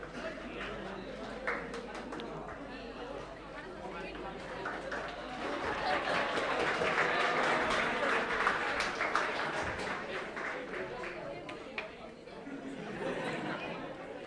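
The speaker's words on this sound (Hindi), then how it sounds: "मैं समझ रहा हूं तालियां किस लिए दी।" Audience applause and scattered chatter from students in a lecture hall during a NEET biotechnology class, a broad sustained clapping wash that swells in the middle and fades slightly toward the end.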